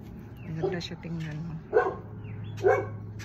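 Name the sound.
dog barking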